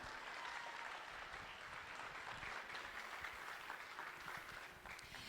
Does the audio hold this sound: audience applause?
yes